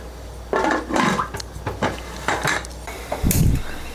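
A metal kadhai is set down on a kitchen stove with several clanks and scrapes of cookware, close and fairly loud, with no talk.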